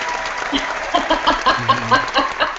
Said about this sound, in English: we're going to give you a little round of applause